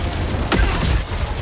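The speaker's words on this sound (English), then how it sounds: "I got my autocannon now." Autocannon fire in the shooter game Helldivers 2, a loud heavy burst of gunfire with a sharp report and booming low rumble, set against continuous battle noise.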